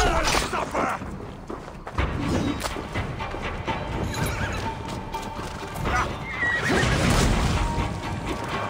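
A horse whinnies loudly while hooves clip-clop at a gallop during combat in the video game Assassin's Creed Valhalla, with thuds and crashes mixed in and a voice talking over parts of it.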